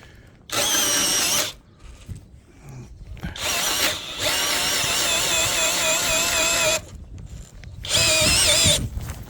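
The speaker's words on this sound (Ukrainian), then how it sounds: "Ну що, включили тут режим свердління." A small cordless drill driver fitted with a large bit bores into wood in three loud, whining bursts, with short pauses and quieter rustling between them, heard close up.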